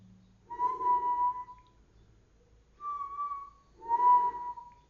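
Someone whistles a short song melody in three clear phrases separated by brief pauses, each a pure sustained tone that slides gently in pitch, close and alone with no talking.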